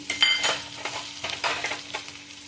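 A small onion fries in a pan as Udupi-style chicken curry is made, sizzling steadily up close with soft, rhythmic stirring scrapes and crackles throughout.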